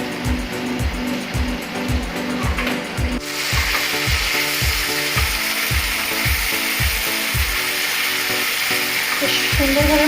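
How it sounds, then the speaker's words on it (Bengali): Spice paste for Katla Kaliya fish curry sizzles in a pan over medium heat, with a steady frying hiss and regular rhythmic scraping or stirring knocks near the microphone, with no talking. "সুন্দরভাবে মশলাটাকে কষাতে হবে মিডিয়াম আঁচে।"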